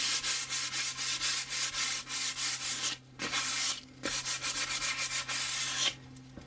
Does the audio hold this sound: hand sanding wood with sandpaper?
yes